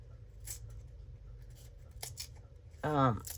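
Scissors trimming a painted book page, a few soft snips over a low background hum, ending in a louder, closer cut near the finish.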